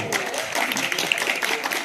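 Applause from an audience at a school prize distribution ceremony as students receive their prizes, dense clapping at a fairly loud level under a voice speaking.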